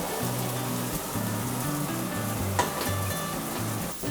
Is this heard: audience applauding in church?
no